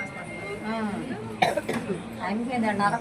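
A person talks, then a single sharp cough bursts out mid-clip before the speech carries on.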